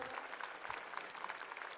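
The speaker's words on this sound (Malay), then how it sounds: "Tepukan untuk dekan-dekan anda ni terutama." An audience applauds the deans at a university vice-chancellor's address, a dense, steady patter of many hands clapping at moderate distance.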